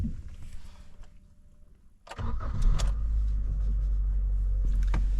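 A classic Japanese car engine cranks after a quiet stretch and catches about two seconds in, then settles into a loud, steady close-up idle rumble with no voices.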